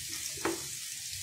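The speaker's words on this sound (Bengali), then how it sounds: "পেঁয়াজটা একটু ভেজে নিয়ে" Onion frying in a pan while pasta with prawns is cooked: a steady, hissing sizzle, fairly quiet and close, with one brief clack of a utensil partway through, no talking.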